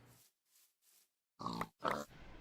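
A Minecraft pig stuck outside a farm fence gives a few short oinks and grunts: faint soft snorts at first, then two louder, closer oinks, with no talking.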